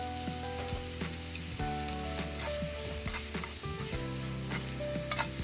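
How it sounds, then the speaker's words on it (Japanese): Shiitake mushrooms fry in sesame oil in a hot pan with a steady, dense sizzle, while a utensil stirs and scrapes in frequent clicks and knocks close by. "しいたけを炒めていきます。"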